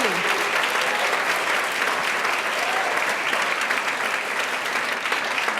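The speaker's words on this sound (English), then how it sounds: "can we give them a wow applause?" Dense, sustained applause from a large audience at a university social innovation showcase, loud and steady throughout with a faint voice or two mixed into the crowd noise.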